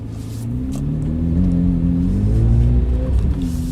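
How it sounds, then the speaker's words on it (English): A Chevrolet Corvette Z06 convertible engine revs loudly and aggressively close by, its deep rumble climbing and wavering in pitch over a few seconds with no voices. "tons of engine presence in this thing from the get-go. It's just very, very aggressive sounding."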